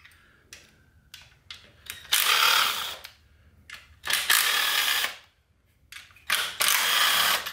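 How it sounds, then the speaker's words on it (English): A ratchet wrench undoes 8mm bolts on a Corvette C5 engine during cylinder head removal, with bursts of rapid clicking separated by short pauses and quieter taps, close by. "then I'll get the 2 in the back with the ratchet wrench"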